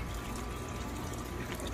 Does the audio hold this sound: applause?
no